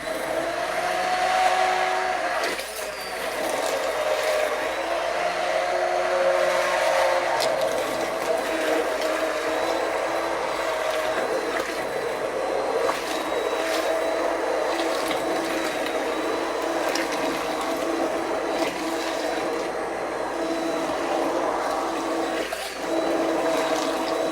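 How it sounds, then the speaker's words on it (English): A steady, loud immersion blender motor whir drones on without a break while blending steak and potato soup, with a faint sloshing rattle under it, close by. "So I have my handy dandy immersion blender, and it's probably going to get loud"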